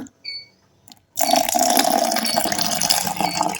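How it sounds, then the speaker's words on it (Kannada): Water is poured into a container of sesame seeds for sesame juice, a sudden steady rushing gush after a couple of faint clicks and a short silence, continuing loud and close without speech. "ನೀರು ಹಾಕೋಣ"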